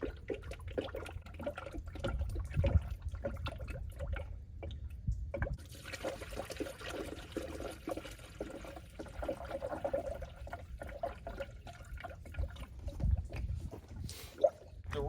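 A 50-50 antifreeze and water coolant mix is poured from one container into a 1993-1997 Toyota Corolla's cooling system, a faint continuous trickling pour with light gurgles throughout.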